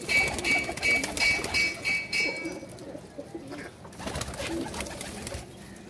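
Pigeons kept by a hobby fancier, their soft rhythmic cooing repeating close by for the first couple of seconds, then thinner bird calls and rustling continue through the rest.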